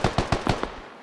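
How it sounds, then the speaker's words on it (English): Gunfire in the video game Squad: a quick burst of five sharp automatic shots at an even rhythm, loud and close, with a short decaying tail and no talk. "Wherever that gunshot's coming from"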